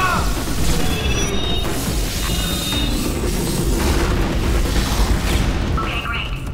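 Bombs going off in Portal 2, a dense, continuous roar of heavy rumbling blasts and debris that stays loud throughout, with a voice talking over it.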